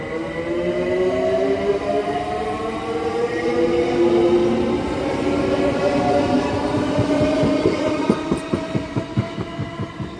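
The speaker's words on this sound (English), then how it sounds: "departing now is going to be 378202 with the 1301 London Overground service" London Overground class 378 unit 378202 pulls away from South Kenton station, a loud sustained rumble with rising motor whine and wheel noise, ending in a series of rhythmic clicks as wheels cross rail joints.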